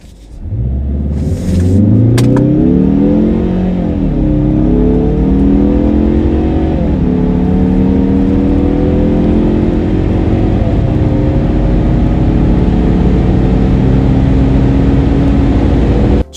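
A stock 2021 Mazda 3 2.5L Turbo sedan accelerating hard through a quarter-mile run, a loud continuous engine roar rising in pitch through several slow gear shifts, each dropping the revs before climbing again, with no talking.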